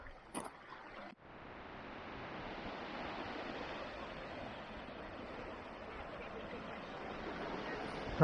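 Steady wash of surf rolling onto a pebbly shore, continuous and fairly close, with a brief wind buffet near the start.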